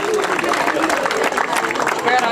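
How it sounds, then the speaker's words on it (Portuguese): Applause at a school's formal opening ceremony for the new academic year in Mangualde, Portugal: a dense, steady wash of clapping from an audience, with crowd voices mixed in throughout. "Uma salva, uma grande salva de palmas para eles."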